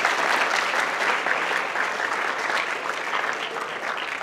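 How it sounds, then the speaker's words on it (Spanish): A church congregation applauds during a sermon, a dense, sustained wash of many hands clapping at moderate distance, fading slightly toward the end. "Dale un aplauso al Espíritu Santo."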